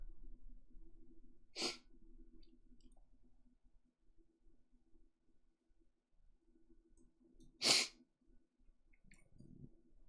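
Two sharp sneezes break a quiet room several seconds apart, each a sudden close burst, with soft breathing and faint clicks between.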